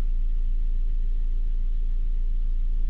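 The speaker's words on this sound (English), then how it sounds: "I thought I heard another car." Engine of another car in the racing game Assetto Corsa, heard as a steady low rumbling drone at an even level throughout, with no talking.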